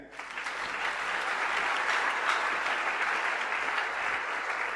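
A church congregation applauds together in a dense, sustained wash of clapping that holds steady for several seconds.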